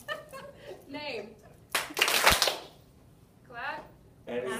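Hand clapping during a classroom movement activity, a short sharp cluster of claps in the middle, with people talking before and after it.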